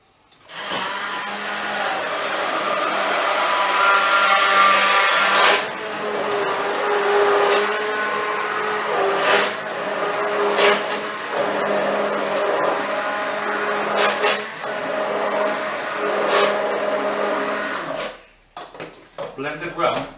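An electric mixer whirs steadily as it blends dark bread dough with honey, a loud continuous motor drone with shifting pitch and occasional clinks against the bowl, cutting off near the end.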